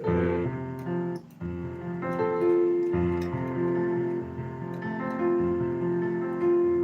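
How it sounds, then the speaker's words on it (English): Sustained harmonic notes shift through a series of pitches in a flowing, rolling pattern, fairly quiet and continuous, with no talking. "Arpeggio movement is when you sound like this."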